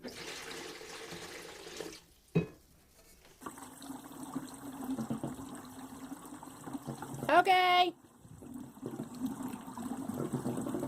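Water poured and dumped out from a tank aboard a sailboat at a marina, a brief gushing splash in the middle of the clip between quieter stretches of background noise and people talking.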